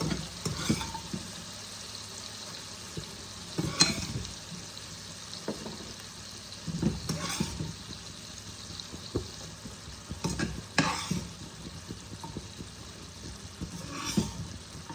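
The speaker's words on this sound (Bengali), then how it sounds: "এবার আমি এই দেখো মটরগুলো আমার ভালোভাবে সিদ্ধ হয়ে গেছে, আমি এগুলোকে দিয়ে দিচ্ছি। একসাথে মশলার সাথে কষিয়ে নেব।" Boiled peas are stirred together with spices in a pan for ghugni, producing a soft, low sizzle and intermittent louder scraping bursts from a spoon turning the mixture at a steady pace.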